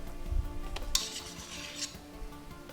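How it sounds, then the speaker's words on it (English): Buttercream frosting is spread as a crumb coat over a cake, giving soft, quiet scraping and smearing strokes with one brighter swipe in the middle. "I'm going to start covering it with a crumb coat of my frosting"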